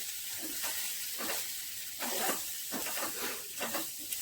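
Grated peanut and grated coconut are stirred in a hot pan for a fasting dish, giving soft intermittent scraping and light sizzling bursts at a low level.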